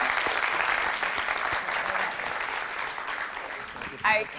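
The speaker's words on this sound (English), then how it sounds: "first of all, a round of applause" An audience at a festival event applauds warmly, a dense even round of clapping that gradually thins out before a voice speaks briefly at the end.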